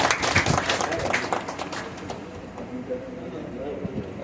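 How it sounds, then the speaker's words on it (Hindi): A crowd claps at the inauguration ceremony of a Bank of India branch in Jagdishpur, Amethi, with dense applause at first that fades to a noisy murmur while people talk. "ताली बजाओ।"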